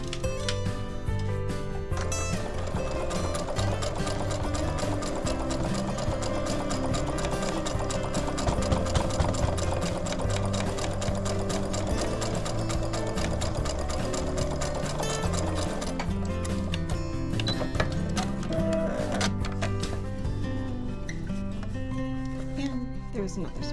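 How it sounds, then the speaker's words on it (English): A sewing machine stitches fabric for a scrap quilt, its needle mechanism running in a fast, steady mechanical rhythm with layered whirring tones, close and continuous before slowing and stopping near the end. "It helps if you turn your sewing machine on."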